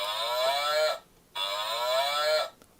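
A toy cow on a toy bus plays two long, drawn-out electronic moos separated by a short pause, loud and close, with no voices.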